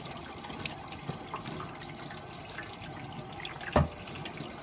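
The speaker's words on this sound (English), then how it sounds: "Next, I will demonstrate how to properly clean a knife. First, get it wet." Steady stream of tap water running over a butter knife at a kitchen sink, a continuous hiss with a brief louder splash near the end.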